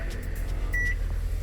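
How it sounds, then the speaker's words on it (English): A small microwave oven runs inside a car, its steady low hum close and continuous, with a brief electronic tone partway through. "if I push the start button, you're gonna see microwave is working right there"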